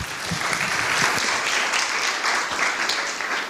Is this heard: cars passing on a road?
no